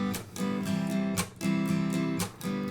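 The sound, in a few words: acoustic guitar percussive slap strum pattern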